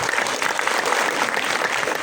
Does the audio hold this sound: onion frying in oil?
no